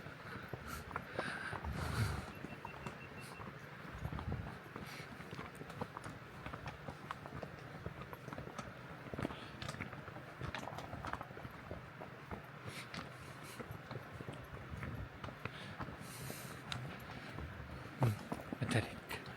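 Steady clip-clop of a horse's hooves while being ridden on a hilly trail in Kazakhstan, continuous and moderately close with wind and rustling around it.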